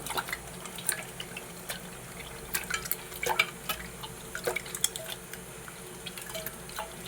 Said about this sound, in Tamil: இப்போ இந்த புளியை நம்ம அப்படியே கரைச்சிருவோம்